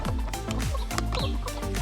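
Hens on a farm clucking steadily in their coop, a close, busy run of repeated clucks and short calls overlapping one another with no talk.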